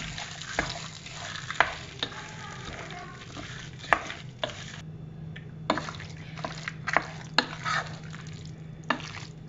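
A spoon scrapes and turns a thick, waterless Kerala sadhya kootu curry in a pan, with a series of distinct stirring strokes over a faint, quiet sizzle.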